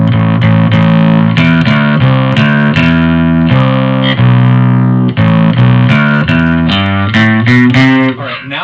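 An electric guitar runs through a Tech 21 Sansamp Programmable with the drive turned fully up, giving loud, thick, fuzzy distorted chords and riffs played in choppy bursts with short pauses between phrases.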